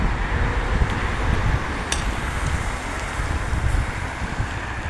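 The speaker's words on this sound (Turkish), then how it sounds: "Rüzgar eksik olmuyor buranın." Strong wind buffets the microphone in a constant low roar, with faint watery surges beneath and no voices.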